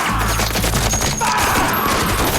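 Firing squad gunfire in a movie, a loud, close burst of overlapping rifle shots followed by ringing and crashing echoes that fill the whole moment.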